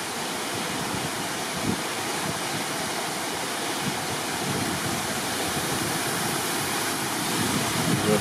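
Fresh water rushes and spills steadily at a natural river swimming pool in Penha Garcia, Portugal. The broad, even roar stays constant and fairly close throughout, with no voices over it.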